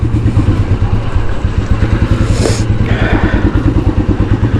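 A motorcycle rides a muddy, slippery road after rain. The engine chugs steadily and loudly in a fast, even pulse with some rattling clatter, close by and with no talk over it.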